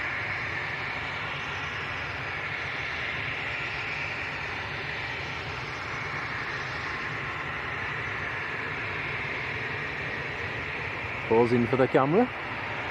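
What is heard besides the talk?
Aer Lingus ATR aircraft passing at Manchester Airport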